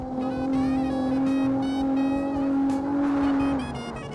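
Toyota Supra driven in the CarX Street racing game, its engine holding a loud, steady high-revving drone with small pitch shifts, alone without talk.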